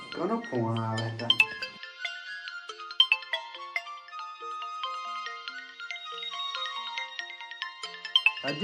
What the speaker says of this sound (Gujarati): કોનો ફોન આવે છે?